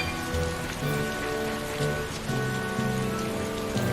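Rain falls in the video game Tales of Berseria in West Camp, a dense, steady patter of drops on surfaces, heard alone with faint tonal game music layered underneath.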